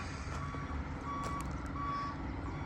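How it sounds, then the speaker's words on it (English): A construction truck arrives at a worksite laid with ground mats where a stone wall once stood, its reversing alarm sounding three steady, evenly spaced beeps over a continuous low engine rumble at moderate distance. "Here comes the first truck."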